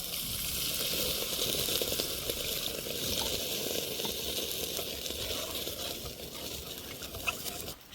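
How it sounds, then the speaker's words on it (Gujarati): Water poured into a pan of frying potatoes, giving a steady, fairly loud sizzle and hiss that lasts throughout without talk. "આપણે એમાં નાખી દઈશું થોડુંક પાણી"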